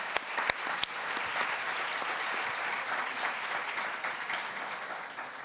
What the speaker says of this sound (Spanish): Bueno, un aplauso para todos.